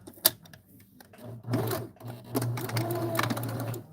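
A sewing machine back stitches in short bursts, with a sharp click, then two brief stitching runs separated by pauses, close and clear over quiet handling noises.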